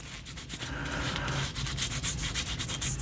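Metal polish is rubbed onto an old rusty Snail Brand spanner with a cloth, a quick series of close, rhythmic scrubbing strokes, loud and alone without talk.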